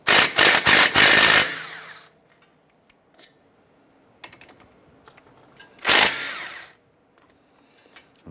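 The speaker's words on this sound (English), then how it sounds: "use a 17mm socket. We're going to remove our two slider pin bolts" On a 2009-2015 Honda Pilot's front brake caliper, a tool on a 17mm socket loosens the slider pin bolts: a loud buzzing burst of rapid rattling, quiet clicks and small tool handling, then a second short burst.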